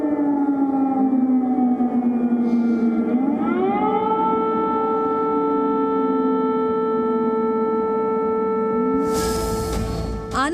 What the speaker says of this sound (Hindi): जी मीडिया की टीम जैसे ही स्कूल पहुंची वैसे ही वहां पर एयर रेड सायरन बजने लगे